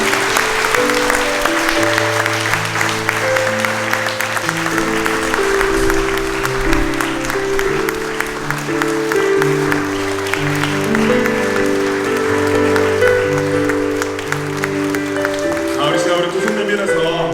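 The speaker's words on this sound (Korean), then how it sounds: "우리 임명식 줄 때 우리 축복하면서 박수 한번 해주시면 좋겠습니다." A church congregation applauding during a group leader appointment ceremony at a Korean Presbyterian service, sustained clapping over steady background music for the whole stretch.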